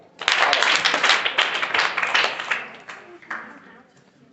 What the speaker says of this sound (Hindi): ठीक है, ताली बजा दो।